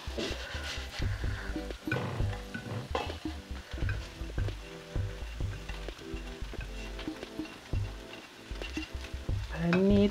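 Mixed devil with paneer, kingfish, mutton, chicken and prawn is stirred in a pan, with a steady close sizzle of frying under repeated scraping and clinking of a spoon against the metal, and no talking.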